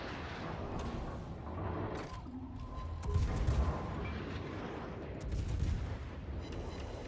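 Naval guns fire in the video game World of Warships, a dense rumbling barrage of booms and blasts layered over continuous battle noise, with heavier swells of gunfire at intervals.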